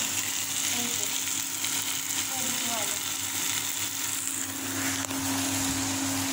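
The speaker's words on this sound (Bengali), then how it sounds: "এদিকে কুঁদরি ভাজা হচ্ছে" Sliced ivy gourd (kundri) fries in a pan in a Bengali home kitchen, a steady close sizzle with a faint constant hum behind it.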